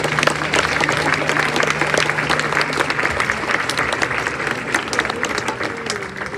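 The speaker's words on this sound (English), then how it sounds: "Let's give our staff a round of applause." Sustained applause from a crowd at a high school ribbon cutting, steady dense clapping throughout with a faint murmur of voices underneath.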